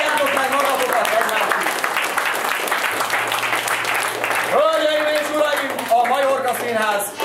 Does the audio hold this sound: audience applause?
yes